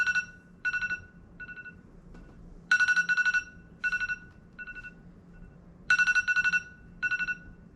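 An iPhone alarm tone rings close and clear in repeated bursts of rapid bright marimba-like notes, looping in a regular pattern with short pauses between phrases, no talk.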